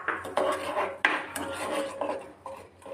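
A spoon scrapes and stirs through a vanilla ice cream mixture as two spoons of sugar are mixed in, giving close rasping, rubbing strokes against the bowl with a few sharper clinks, steady and without voices.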